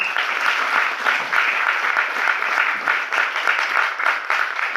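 Sustained, dense applause from an audience at an awards function, steady and loud across the whole stretch with no voices rising above it.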